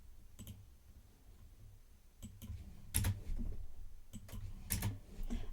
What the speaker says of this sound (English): let's click on this icon over here.